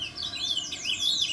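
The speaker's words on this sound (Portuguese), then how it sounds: "os passarinhos estão cantando pra caramba" Birds sing outside a house in a countryside neighbourhood, with continuous overlapping chirps and warbling whistles close by over a soft rumbling background, no talking.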